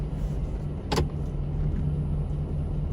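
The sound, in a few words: truck engine running rough, ticking motor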